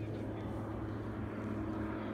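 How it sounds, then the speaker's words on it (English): A Harbour Air float plane passes overhead near Mudge Island, British Columbia, heard as a faint, steady distant propeller drone. "Oh, a float plane going overhead."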